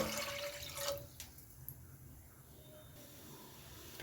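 Water gushes into a pot for about a second while cooking curd rice, then settles into softer trickling and dripping.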